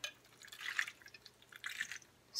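Broth for a Sunday roast dinner, with garlic cloves, herbs and spices, trickles over the food in soft, intermittent splashes and drips, quiet and close, with no talking.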